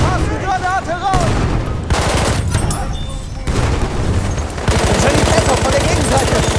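Loud, rapid machine-gun bursts fire in the Battlefield 1 Argonne forest conquest battle, interrupted by short pauses and mixed with other combat noise. A voice shouts over the gunfire.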